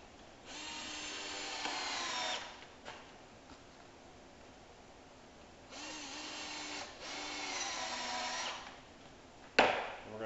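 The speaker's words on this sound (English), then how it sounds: "Going to sink two screws in the first one to hold it in place." A power drill drives screws into the wooden frame of an acoustic panel in bursts: a long whir, a pause, then two more runs and a short final burst, close and fairly loud.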